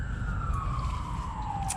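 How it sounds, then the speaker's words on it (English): A siren wails steadily at a distance in the early morning, its tone sliding slowly downward over a constant low rumble of outdoor noise. "Sirens wailing."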